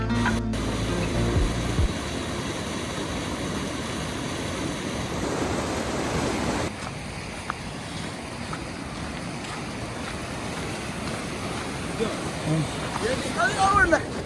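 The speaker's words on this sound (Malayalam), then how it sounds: "അങ്ങ് ദൂരെ മലയുടെ മുകളിൽ നിന്ന് ഐസ് ഉരുകി വെള്ളമായിട്ട് ഇങ്ങനെ ഒഴുകി വരുന്ന ഒരു കിടിലൻ ഗ്ലേഷ്യർ" A glacier meltwater stream in the Kashmir mountains near Sonamarg rushes as a continuous broad wash of flowing water, with wind noise and occasional faint knocks and bits of background sound mixed in.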